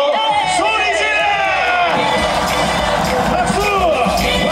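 A loud crowd at a Hanwha Eagles cheerleading show yells and cheers in a rising, sustained roar of many voices that swells after a brief quieter opening.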